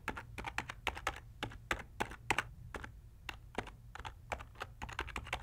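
Rapid typing on a computer keyboard as a web address is entered, a close and steady run of crisp key clicks in uneven bursts over a faint low hum, with no voice.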